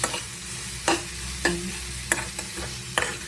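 Vegetables stirred and mixed in a pan with a spatula, giving sharp, spaced scraping strokes over a soft, steady sizzle, with no voices.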